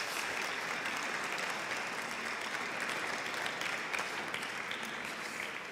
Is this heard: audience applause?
yes